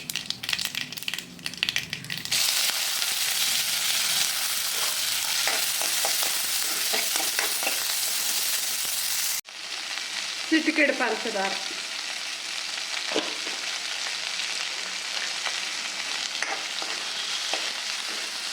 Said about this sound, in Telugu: పోపు వేగాలండి, బాగా వేగేంత వరకు. పోపు వేగిందండి.